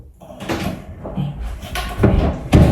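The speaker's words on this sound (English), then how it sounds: "The door's open." A door swings open nearby with a short creak and knock, followed by a couple of louder thumps and rattles as it moves, recorded close with some background noise.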